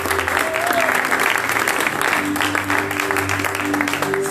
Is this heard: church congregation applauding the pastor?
yes